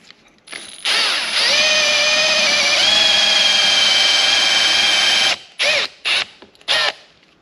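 A power drill whines steadily for several seconds, drilling out holes in metal for rivet nuts on a 1992 Pontiac Firebird, then gives three short bursts with pauses between them.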